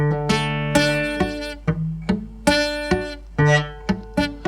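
Guitar notes plucked one after another in a steady fingerpicked pattern, bright and close, each note ringing briefly before the next.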